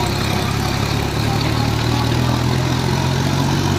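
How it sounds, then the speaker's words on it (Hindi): A tractor engine runs steadily and loud throughout on the way home near Silawata, India, its low rumble and idling drone continuous with no talk over it. "अशोक ट्रैक्टर चला रहा है और अभी हम घर जा रहे हैं"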